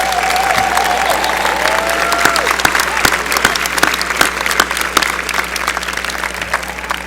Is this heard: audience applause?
yes